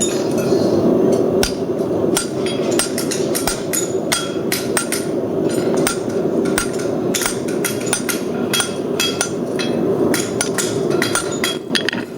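Quick metallic hammer strikes drive a chisel into a three-quarter fullered egg bar horseshoe, a fast uneven run of sharp ringing taps, loud and close over low workshop noise.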